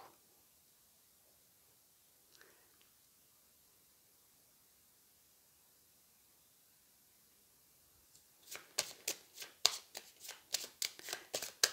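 Tarot cards are shuffled close by after a long quiet stretch, giving a quick run of crisp riffling snaps over the last few seconds.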